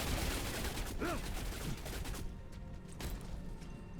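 Gunfire from guns built into a wall in the video game Wayfinders, a dense crackling volley that stays steady for about four seconds, with a few sharper bursts mixed in.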